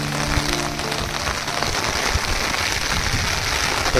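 Steady rain falls on a village road where water has collected, a dense even hiss with scattered close drops spattering over it throughout.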